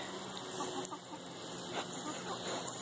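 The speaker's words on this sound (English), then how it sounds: "Oh, the chickens are coming." Chickens cluck nearby on a farm as they come toward a squash being eaten, soft repeated clucks over a steady insect-like buzz.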